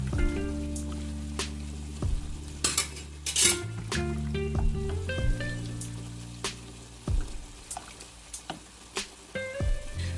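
A spoon scrapes and clinks against a pot while butter is stirred into Jamaican rice and peas over a steady sizzling simmer, with intermittent metallic knocks close up and no voices.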